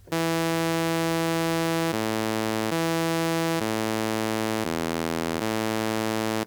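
Buzzy synthesizer tones through a high-pass filter play a slow sequence of sustained notes that step down and back up in pitch, each note thin and bright with little bass.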